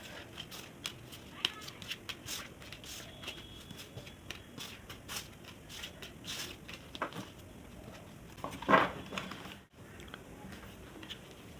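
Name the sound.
tarot cards being collected and shuffled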